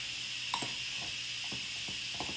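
A fork stirs food in a Pampered Chef Quick Cooker pressure cooker, likely rice: four or five soft scraping strokes at an uneven rhythm, close by, over a steady high hiss with no talking.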